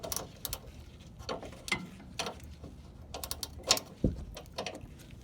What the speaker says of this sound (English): Using the gear wrench, 18mm.